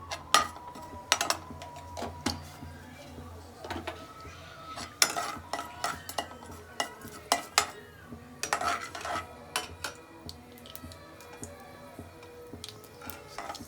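Mustard seeds go into a pan with a couple of spoons of hot oil for tempering, giving scattered light clicks, taps and small metallic clinks in an irregular, sputtering rhythm close by.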